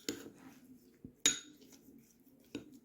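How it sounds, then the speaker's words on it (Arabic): A spoon clinks against a dish while mixing chopped turnip with sugar, three or four sharp metallic taps spaced apart over a quiet background, close and alone. "دابا غادي نخلط كلشي، هذيك سنيده واللفت جيدا."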